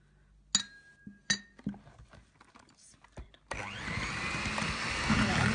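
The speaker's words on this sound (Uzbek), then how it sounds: "Seriq mayimizni silib, biroz aralashtiramiz." Softened butter for corn flour cookies is mixed in a bowl. First come a few sharp glassy clinks and knocks, then an electric mixer switches on midway and whirs steadily and loudly to the end.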